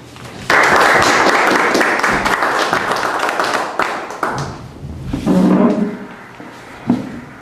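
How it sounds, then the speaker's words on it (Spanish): Applause from an audience at a panel on Olmec heritage and indigenous cultures: loud, close clapping starts abruptly and runs for several seconds, fades, then swells again briefly with a few last claps. "Vamos a darle un cariñoso aplauso."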